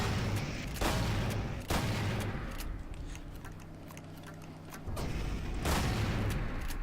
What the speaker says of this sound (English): Oh, another explosion.